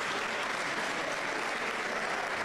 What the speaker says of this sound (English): give a round of applause to our 2025 Men Making a Difference Award recipients